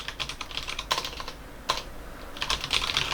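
Keys clatter on a mechanical keyboard fitted with brown switches, typed in quick irregular bursts with short pauses, close up and fairly loud, with no voice.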